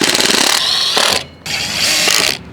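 Power driver sinking a Tek screw into a metal greenhouse ground stake, a loud ratcheting whir in two bursts separated by a short pause, close up with no talking.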